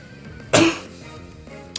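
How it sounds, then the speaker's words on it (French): A single short cough, fairly loud and close, standing alone with quiet background before and after. "Je suis désolé, j'ai toujours cette toux."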